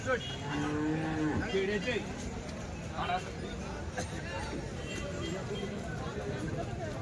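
Bulls moo loudly several times amid a busy outdoor cattle market in Dhule, with a crowd murmuring and people talking in the background.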